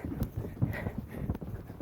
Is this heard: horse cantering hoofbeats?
yes